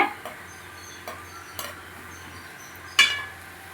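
Murukku frying in hot oil: a faint, steady oil hiss sits under a few sharp metallic clinks of a utensil against the pan, the loudest near the end.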